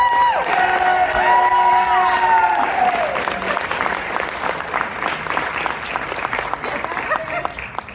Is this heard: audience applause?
yes